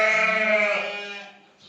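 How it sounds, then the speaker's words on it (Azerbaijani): A young lamb in a flock of sheep with lambs gives one loud, close, wavering bleat that trails off, alone without talk. "Bax quzular da bunlar"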